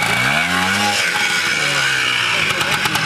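A motorcycle engine revs on Mont Ventoux, its pitch climbing and then dropping back before idling unevenly, close by and fairly loud with some background noise.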